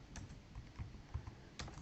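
Soft, steady typing on a computer keyboard in a quiet room, a continuous run of faint key clicks with a few slightly louder taps.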